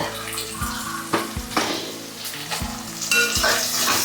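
Onions and turmeric powder sizzle in a pan for a shrimp and sorrel leaf curry, a steady close frying hiss broken by several sharp scraping stirs, with no talking.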